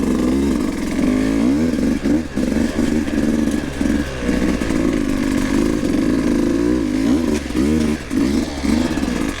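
A dirt bike engine revs hard and loud at railroad tracks as the rear wheel spins, a close, continuous rasping roar with rising and falling pitch and brief dips in throttle.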